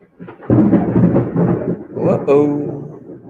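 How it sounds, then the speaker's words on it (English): Deep thunder rolls through a storm, a broad low rumble that swells and fades over several seconds with a voice faintly audible alongside it. "I don't know if y'all can hear that thunder"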